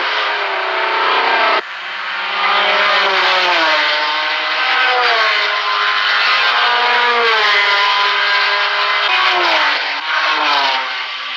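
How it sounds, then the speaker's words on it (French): A Datsun 260 race car at the 1976 Le Mans 24 Hours roars close by at high revs, its loud engine note climbing and dropping through gear changes and lifts, steady and prominent throughout with no talking. "Ici, la Datsun 260, équipage Buchet, Fabrèche et Allaire."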